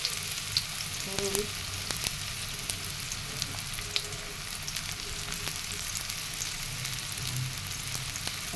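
Chopped onion fries in mustard oil in a wok, giving a steady, close sizzle with scattered crackles and occasional stirring scrapes, and no voices.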